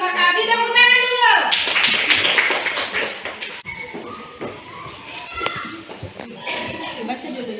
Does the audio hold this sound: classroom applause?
yes